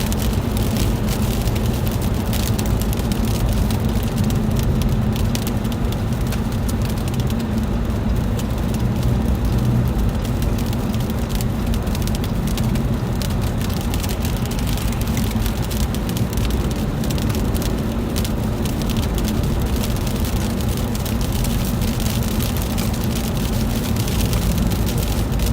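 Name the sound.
sleet falling on car during ice storm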